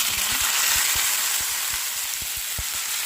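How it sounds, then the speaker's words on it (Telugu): Chicken curry masala fries in hot oil with a dense, continuous close sizzle, loud and steady, punctuated by irregular soft pops and stirring knocks, with no talking. "నేనైతే బాగా వేగిపోవాలి నూనెలో"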